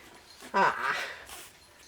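Three-week-old puppies whimper near their whelping bed, one short, high, wavering whine rising over quiet room noise, close by.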